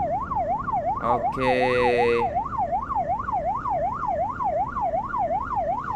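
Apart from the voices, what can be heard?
ambulance siren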